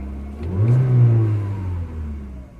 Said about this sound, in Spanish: Si yo acelero de golpe, va a perder vacío y se va a tener un pico